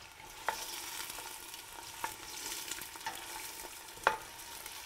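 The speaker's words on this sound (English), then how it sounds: "now I'll give that a little bit of a stir so it doesn't burn" Pasta sauce being stirred in a pan, a soft continuous sizzle with occasional light taps of the spoon against the pan's edge, one sharper knock near the end, no voices.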